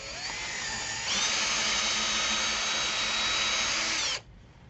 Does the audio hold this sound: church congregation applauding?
no